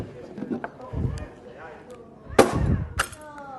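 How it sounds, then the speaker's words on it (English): A hammer smashes a light bulb's glass inside a plastic bag: two sharp, bright crashes with rustling bag and tinkling shards, amid nearby speech. "let's get rid of the glass so we can see what's going on inside of the light bulb"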